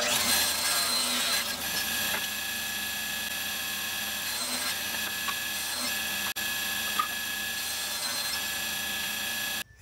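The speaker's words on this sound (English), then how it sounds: "So set my table saw to 4 1/4 and cut the opposite side of where you just cut." A table saw cuts a board to 4 1/4 inches in one long continuous run. The steady, loud whine holds for nearly ten seconds, with a brief dip partway through, and there is no talk.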